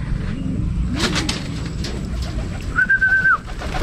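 Pigeons arrive and coo in La Union, with soft low cooing early on, a brief flutter and then a clear, louder drawn-out call near the end, close by over a faint background hum.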